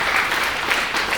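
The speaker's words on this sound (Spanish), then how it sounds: "Y si lo cree, dale palmas. Apláudele fuerte, por favor." A church congregation applauds loudly, a dense, continuous wash of many hands clapping together with a faint murmur of voices underneath.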